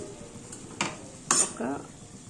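Carrot and capsicum curry gets stirred in a pan, giving a few quiet scraping and clinking strokes of a utensil against metal over a faint background.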